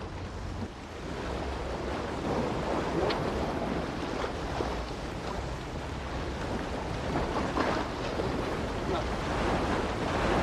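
Steady wind and breaking surf on a French beach during surfcasting, a continuous loud roar of waves and gusts buffeting the microphone with no pauses.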